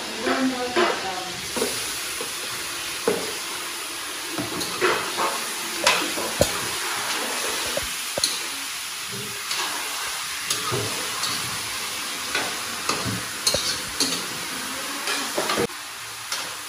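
Meat for humba sizzles and fries in a pan while a utensil repeatedly stirs and scrapes it, producing steady close hiss with frequent sharp clinks and scrapes throughout.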